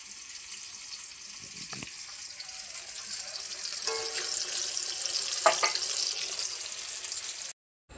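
Slices of pointed gourd (potol) fry in oil on a gas stove, a steady close sizzle with a few soft clinks and scrapes, rising slightly before cutting off at the end.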